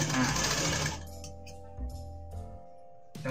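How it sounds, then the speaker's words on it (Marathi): An electric sewing machine stitching a blouse whirs loudly for about a second, then slows to a quieter hum with a few soft clicks and knocks before a brief final burst. "आता आपल्याला इथं शिलाई करून घ्यायचं."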